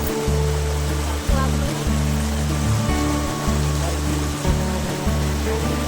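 Water rushing at a waterfall-fed stream at Hathni Mata, a loud, steady broadband roar close by, with a low rhythmic thumping throbbing underneath throughout.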